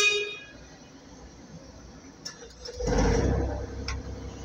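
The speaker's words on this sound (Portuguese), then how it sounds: "Deixa eu dar uma buzinadinha." Horn of an XCMG XE35U mini excavator sounds as one short, fairly loud blast inside the cab, after a quiet stretch of faint ticking.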